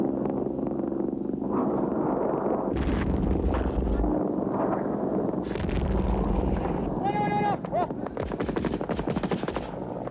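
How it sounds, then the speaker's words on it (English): Gunfire and artillery fire ring out in a war setting as Soviet troops lay down covering fire, repeated loud bursts and rapid shots with booming impacts, under someone narrating. "Soviets dug in at the edge of the village, lay down covering fire."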